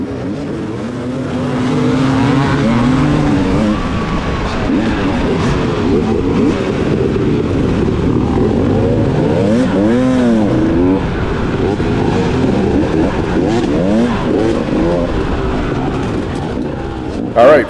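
Dirt bikes roar off the start line at round one of a New Brunswick Dirt Riders Association hare scramble in Penobsquis, 2021. Loud, dense engine revving continues throughout, with a rising and falling pitch sweep mid-way as the pack accelerates.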